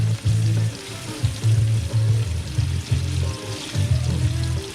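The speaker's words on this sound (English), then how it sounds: "that's chicken with oil. And it's frying." Chicken sizzles and crackles in hot oil while Myojo Yakisoba instant noodles are prepared, a continuous frying hiss with bursts of bubbling, close and moderately loud, no voices.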